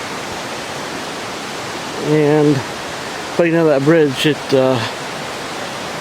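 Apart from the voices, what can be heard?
waterfall rushing on a creek trail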